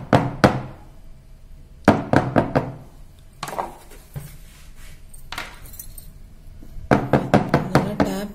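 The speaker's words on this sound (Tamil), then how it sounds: "இப்போ நம்ம இதை நல்லா டேப் பண்ணிக்கலாம்." A homemade chocolate vanilla ice cream container is tapped down on a hard surface to settle it, giving close, sharp knocks in quick clusters of two to five with short pauses between.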